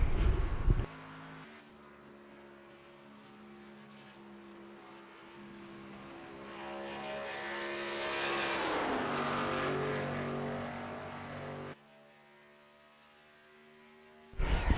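Xfinity Series race car in a racing video game, lapping in qualifying at Auto Club: a steady engine drone with rising and falling harmonics that swells as the car nears and passes, then cuts off abruptly.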